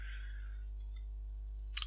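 Small mouse clicks in GIMP 2.10 software, a few sharp, quiet ticks scattered over a steady low hum, with a fading tone at the start and no talking.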